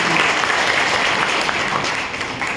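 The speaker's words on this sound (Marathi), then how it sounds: "टाळ्या वाजवून" A room full of people claps together at a district court communication-skills talk, a steady, fairly loud wash of applause that thins a little near the end.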